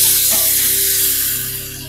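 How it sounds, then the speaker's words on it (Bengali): Ginger and green chilli paste hits hot oil with a loud, close hissing sizzle that stays strong and steady throughout, fading only slightly at the end. "আদা আর কাঁচা লঙ্কা বাটা একসঙ্গে করা আছে"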